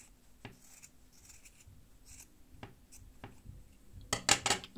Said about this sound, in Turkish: Şimdi fazlalık iplerimizi makasla kesiyoruz.